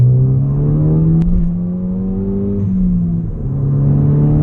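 A modified Ford Focus ST with a turbocharged four-cylinder engine accelerates hard. A loud, close engine drone climbs steadily in pitch, dips briefly as it shifts, then rises again.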